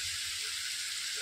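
Sliced onions and curry leaves fry in a pan for a mixed vegetable curry, giving off a steady, close, hissing sizzle with no breaks.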